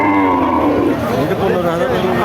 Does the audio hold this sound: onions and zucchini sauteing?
no